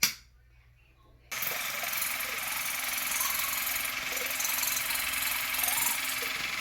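YOUNGDO cordless water flosser pumping after its nozzle button is pressed: a sudden start from near silence into a steady, loud, buzzing mechanical whir that continues evenly to the end.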